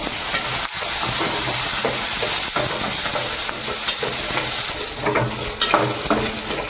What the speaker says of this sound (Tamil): இது நல்லா பாதி ஃப்ரை ஆகிற வரைக்கும் நம்ம வதக்கலாம்